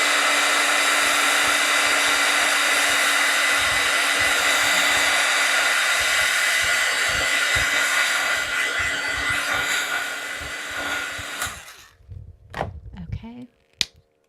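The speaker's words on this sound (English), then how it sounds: "I'm going to hit this with my heat tool just to speed up the drying of the white" A craft heat tool blows over wet white paint with a loud, steady whirring hiss. It cuts off near the end, leaving a few handling knocks and taps.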